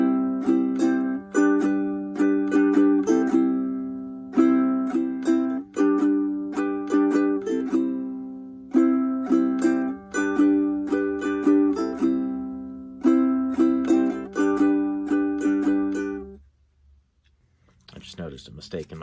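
Ukulele strums a repeating two-bar rhythmic pattern for a lesson, with crisp chord hits cycling steadily for about sixteen seconds before stopping.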